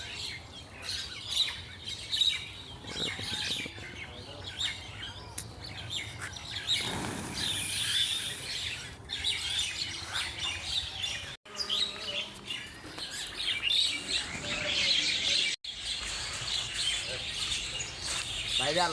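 Many colourful birds come to feed, their chirps and tweets scattered throughout at moderate distance, with a brief flutter of wings midway and a low murmur of background noise.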